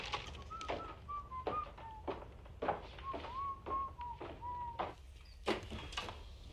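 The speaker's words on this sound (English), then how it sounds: "Whistling." Someone whistles a wavering tune of long, sliding notes in a television drama scene, close and fairly quiet, broken up by sharp knocks and clatters throughout.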